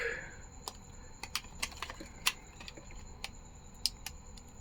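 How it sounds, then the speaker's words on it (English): Several sharp, irregular clicks from the try-me button on a 3-foot Inferno skeleton from Home Depot fitted with a digital eyes kit. They ring out fairly quietly over a low background hiss, with no talking. "And that's your try me button. Click."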